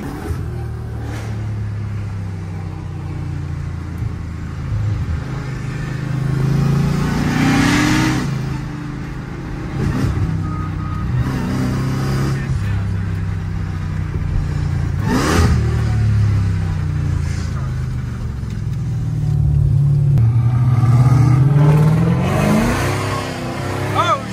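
A Jeep Grand Cherokee Trackhawk rolls along a rough, bumpy road with constant rumbling road noise and engine drone, jolts and rattles throughout, while people talk over it.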